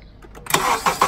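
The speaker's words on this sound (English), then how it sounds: "now you ask the customer to start the car" A Honda Accord, 2003–2007 generation, cranks and starts after a starter replacement: a short burst of close, loud starter whir and engine catch, with a couple of quick surges as it fires up.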